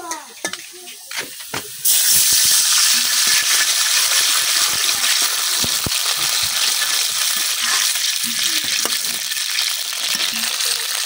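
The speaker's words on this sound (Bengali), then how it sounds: "পেঁয়াজটা কিন্তু ভাজা হয়ে গেছে, এখন আমি দিয়ে দিতেছি একটু পানি।" Water poured onto fried onions in a hot wok: sparse clinks and stirring at first, then a sudden loud burst of hissing sizzle and steam that continues steadily to the end.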